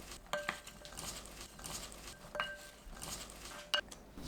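A nectarine salad being tossed with chili flakes, minced garlic and a pinch of fine salt, giving soft, close clinks and scrapes of a utensil against a bowl in a few short bursts, with no talking.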